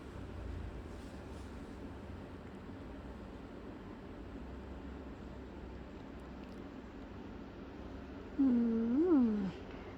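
A domestic cat gives one short, close meow near the end, rising then falling, over a faint steady background hiss in a quiet room.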